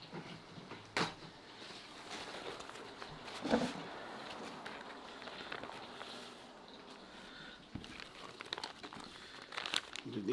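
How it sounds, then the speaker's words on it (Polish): Paper towel crumples and crinkles up close in a kitchen while a steak cooked in a dishwasher is cut open, with rustling bursts, a few knocks and handling sounds, and people talking throughout. "Czekaj, wezmę sobie trochę papieru."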